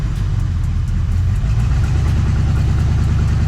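A Ford Mustang Foxbody engine with a dead cylinder and misfire rumbles loudly up close, a heavy low idle with an uneven, stumbling pulse running the whole time.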